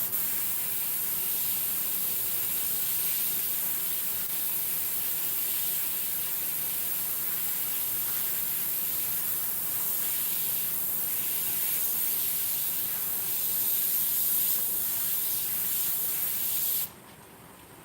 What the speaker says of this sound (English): I'm airbrushing in a texture that his head has.